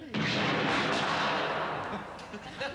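Mortar firing during a wartime TV comedy scene: a single loud boom with a burst of rumbling blast that fades out over a couple of seconds.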